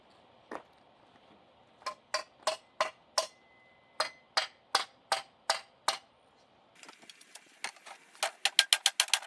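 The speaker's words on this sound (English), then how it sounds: "let's hammer these corners in" Sharp, light taps strike in a steady rhythm, about a dozen hammer blows, then a quicker cluster of lighter taps at the end, hammering corners into a window screen frame.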